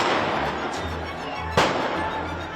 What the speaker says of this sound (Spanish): comenzaron a lanzar petardos contra las instalaciones de gobierno